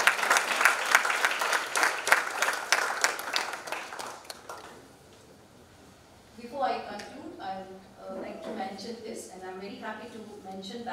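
Audience at a college engineering annual day applauds loudly for about five seconds, the clapping fading out, followed by a person speaking.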